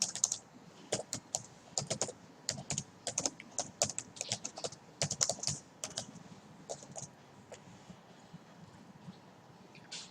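Typing on a computer keyboard during a web typography lesson: rapid, irregular bursts of clicky keystrokes, close and fairly quiet, with brief pauses between flurries and no voices.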